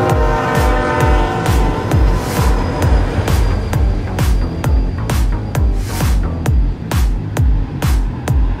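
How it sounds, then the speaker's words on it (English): A train rumbles through a rail yard, close and steady, with a rapid rhythmic clatter of wheels over rail joints and a sustained horn tone running through the passage. "Officially arrived at the rail yard."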